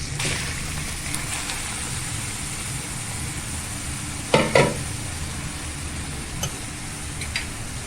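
Grated carrot hitting hot ghee in a pan for gajar halwa, a steady low sizzle with a couple of sharp clatters from stirring partway through.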